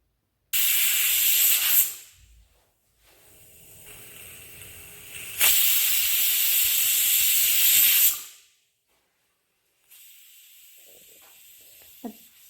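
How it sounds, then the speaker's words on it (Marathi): A home pressure cooker on a gas stove, with radish greens cooking inside, lets out loud, sharp steam whistles in three bursts, each a sustained hissing jet that cuts off abruptly, with a quieter hiss between them. "आता आपण तीन शिट्ट्या काढून घेऊया कुकरच्या"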